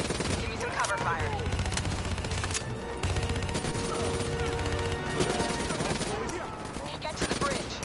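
Gunfire in a Call of Duty Black Ops 3 campaign firefight, sustained rapid automatic bursts and overlapping shots with clattering impacts, busy and continuous throughout, with voices partly buried in the battle noise.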